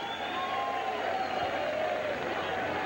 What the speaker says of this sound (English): Crowd salutes both fighters.